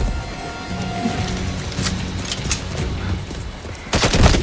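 Rapid video-game gunfire in a 007 First Light firefight, a dense crackle of shots running throughout under a loud rumbling game mix, swelling into a heavier close burst at the end.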